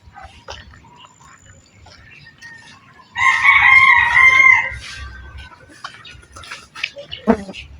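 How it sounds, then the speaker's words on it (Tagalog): Flock of plump village chickens with roosters, one loud nearby crow standing out amid scattered clucks and background farmyard noise on a morning walk. "Daming manok oh."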